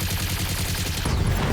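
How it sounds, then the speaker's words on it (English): Rapid mech machine-gun fire from the BattleTech game rattles off in a dense, continuous stream of loud, evenly spaced bursts, swelling into heavier impacts near the end. "Now machine guns."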